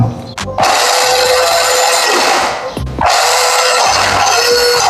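A restored scrapyard remote control car runs its small electric motor, a loud, close, high whine that spins up, holds steady, cuts out briefly near the three-second mark and then revs back up.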